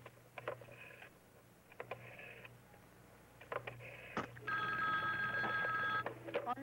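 A telephone gives one steady, sustained ring burst after a few quiet clicks and knocks, fairly faint in a quiet room with no talking.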